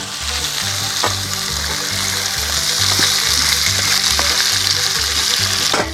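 Potatoes and onions fry in a pan with rendering bacon over a camp-style fire, a loud steady sizzle running throughout with occasional stirring scrapes.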